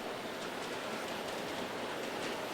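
G scale model trains roll slowly around an indoor mountain layout, giving a steady, soft rumble with faint rhythmic wheel clatter that carries on without a break and with no voices.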